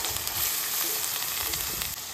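Ginger, garlic and onion paste frying in a pan, a steady close sizzle with soft scraping stirs throughout, no voices.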